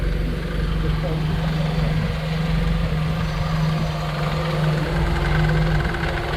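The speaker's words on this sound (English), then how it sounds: "this Toyota engine is one of the best of them" A 1992 Toyota Corolla 1.3 engine idles with a steady, rumbling hum and a faint knocking rhythm, while a voice speaks over it.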